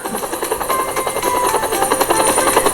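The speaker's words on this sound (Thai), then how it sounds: "เฮลิคอปเตอร์ บินสำรวจให้ทั่ว" A helicopter in the Roblox game flies close by, its rotor giving a fast, steady chopping pulse throughout, loud and alone.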